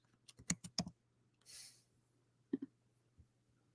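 Quick bursts of keystrokes on a computer keyboard, a rapid cluster of crisp clicks, then a brief soft rustle and a couple more taps, close and fairly faint with no talking.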